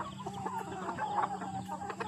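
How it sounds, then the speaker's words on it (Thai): Young hens about four to five months old clucking steadily in a farm coop during the dry, cool season, several birds overlapping in a continuous close chorus with no talk. "นี่เป็นไก่สาว รุ่นสี่ห้าเดือน"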